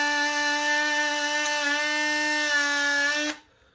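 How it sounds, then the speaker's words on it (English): A Dremel rotary tool spins a wire brush against a screw head on the chrome frame of a vintage pachinko machine, a close, steady high-pitched whine for about three seconds that stops abruptly. "a Dremel with a wire brush, and you just simply hit the head of this"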